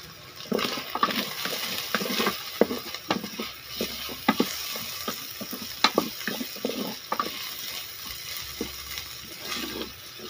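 Sweet potato tops and carrot being stir-fried, with scraping and tapping stirring strokes over a soft background sizzle, close by, fairly quiet and without speech.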